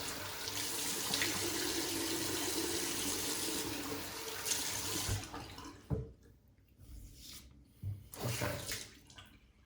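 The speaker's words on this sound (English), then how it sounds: "So what we're gonna do now is, I guess, wash off the face and have a bit of a feel around." A tap runs steadily at a sink for several seconds, then water splashes in a few separate bursts as a face is rinsed after shaving, close by and fairly quiet.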